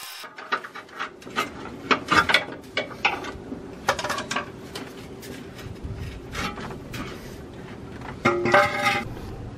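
Ratchet clicks in repeated short bursts as 13 mm oil pan bolts are loosened on a Chevy Silverado 2WD, close and fairly loud, with metallic clinks of tools between the bursts.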